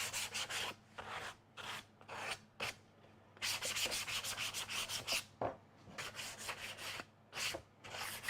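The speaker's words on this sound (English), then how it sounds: "Let's give this one a little bit of a sand here." Wood being sanded by hand with sandpaper: close, rhythmic back-and-forth rubbing strokes in steady bursts with brief pauses between.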